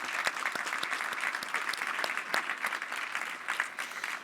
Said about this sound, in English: If I can ask for a big round of applause for my panelists